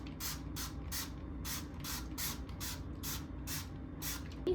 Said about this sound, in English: Spray it on your skin like this